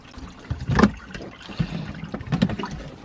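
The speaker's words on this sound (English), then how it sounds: "So the rinse is done. Now I'm going to drain." Rinse water drains from a small washing machine inside a travel trailer, gurgling and splashing in uneven bursts at close range.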